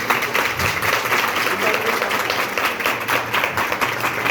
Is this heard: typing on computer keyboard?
no